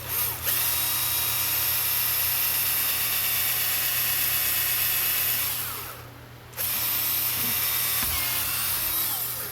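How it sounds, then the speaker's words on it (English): A power drill runs continuously with a high whine, briefly dips as the load changes, then spins up again at full speed. "And so we're going to drill it out, see if it works."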